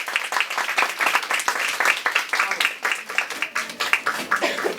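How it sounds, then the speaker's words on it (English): A small audience claps at a startup and AI tools event, with distinct, uneven hand claps close by that stay steady throughout without building to a roar. "Please give a huge round of applause"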